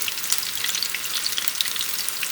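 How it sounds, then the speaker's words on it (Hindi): Onion pakoras deep frying in hot oil over high heat, a steady dense crackling sizzle with bright spattering pops throughout, close and continuous with no talking. "और इसे हम लोग तेज़ आंच पर ही फ्राई करेंगे।"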